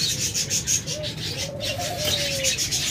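Pigeons kept for sale coo in soft, repeated rolling calls close by, over a steady background hum, with no voices.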